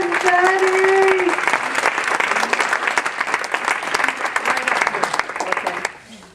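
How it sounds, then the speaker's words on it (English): Audience applause for a weight-loss testimony speaker, a dense round of clapping with a brief whoop at the start, holding steady then fading out near the end. "Let's hear a huge round of applause for Betty Duxbury!"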